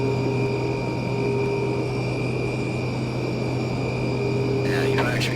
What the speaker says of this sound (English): Doing a flaps 2 takeoff.